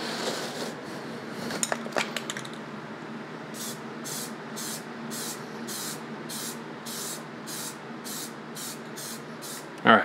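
Paint sprayed onto a faceshell in a regular series of short hissing bursts, preceded by a few clinks and light handling noises, with no talk.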